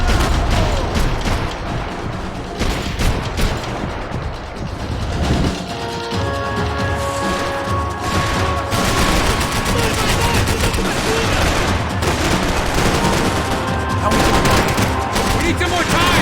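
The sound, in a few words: gunfire and bullets whizzing past in a video game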